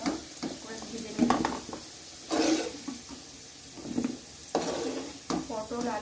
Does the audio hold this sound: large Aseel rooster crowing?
no